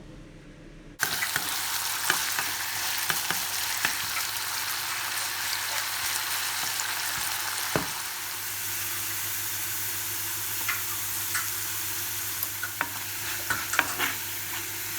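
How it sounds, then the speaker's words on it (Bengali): Potatoes crackle and sizzle steadily as they fry crisp in hot oil in a wok, with occasional stirring scrapes and clinks over the constant frying hiss. "আমি একই কড়াইতে মুচমুচে করে আলু ভাজবো"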